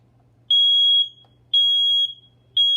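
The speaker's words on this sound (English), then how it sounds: "We're gonna test the smoke alarm now." A smoke alarm under test sounds three loud, piercing electronic beeps, each about half a second long, repeating at a steady one-second rhythm with a faint low hum underneath.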